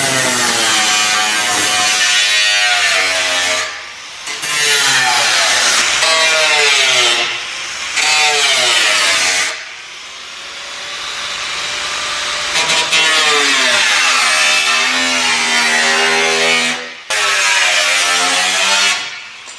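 A power tool cuts through a Tesla Model 3 front bumper during a molded widebody build, a loud, sustained grinding whine in long bursts with brief pauses, close up and with no talking.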